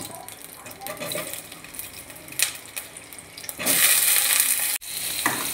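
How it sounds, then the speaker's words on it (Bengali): Potatoes frying in a little added oil in a pan after the chicken is removed, a steady close sizzle that swells louder in the last couple of seconds, with occasional clinks of a spoon. "আমি আলুগুলোকেও ভেজে নেব।"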